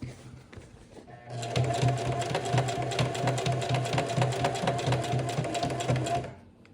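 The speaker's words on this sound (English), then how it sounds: "So as I'm sewing, I'm not even looking at the needle." A sewing machine runs steadily for about five seconds, stitching through denim on custom streetwear jeans, with a fast even needle rhythm, close and loud after a quieter start.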